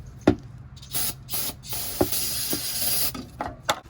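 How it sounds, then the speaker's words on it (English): A spray can gives several short hissing squirts at close range while servicing a Dodge Ram 2500 5.9L Cummins, mixed with small knocks and clicks in quiet surroundings. "So it's just a quick little squirt."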